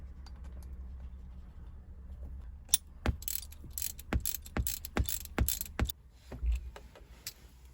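Ratchet tightening bolts on a Ford Transit gear stick with an MT75 gearbox, a run of sharp metallic clicks and clanks in quick irregular succession, close up over a low background hum.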